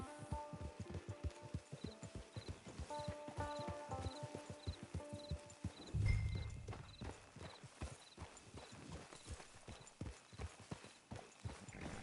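A horse in the video game Red Dead Redemption 2 trots with a steady, close clip-clop of hooves, then slows and stops with a snort midway before more scattered hoof steps under faint background ambience.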